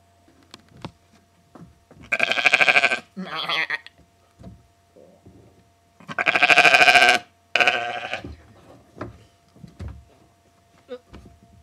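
Icelandic sheep bleat up close outdoors, two long loud bleats each followed by a shorter call, with scattered faint knocks and rustles between them.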